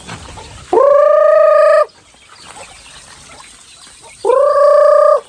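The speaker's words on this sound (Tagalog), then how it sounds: "So may mga manok dito, yun, mga maliliit na manok, bantam." Small bantam chickens outdoors give two loud, drawn-out calls a few seconds apart, close to the microphone, with quiet background between them.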